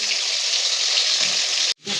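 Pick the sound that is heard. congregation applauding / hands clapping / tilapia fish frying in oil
tilapia fish frying in oil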